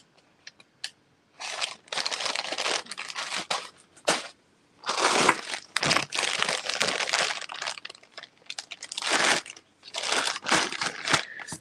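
Paper is crumpled by hand while jewelry is wrapped, giving close, loud bursts of crinkling and crunching in several bouts separated by short pauses.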